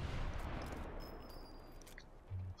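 Muffled sniper gunfire in the video game Sniper Elite 4 rumbles faintly in a quick burst at the start, then fades under low background noise, with another soft thump near the end.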